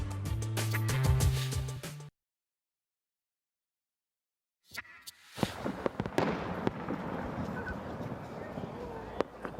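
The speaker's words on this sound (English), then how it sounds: "In fact, this year's fireworks got started earlier than usual." New Year's fireworks over St. John's, Newfoundland, crackling and popping in dense, irregular bursts after a brief stretch of music and a silent gap, with a steady roar of crowd and distant booms underneath.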